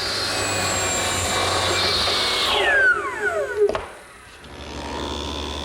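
A table saw cuts tenons on the ends of a wooden cross piece for an outdoor patio table, giving a steady loud whine that rises in pitch, then a brief clatter as the cut finishes and the blade spins down.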